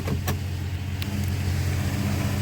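A vehicle engine running at a steady idle, close and even, with a couple of brief sharp clicks near the start.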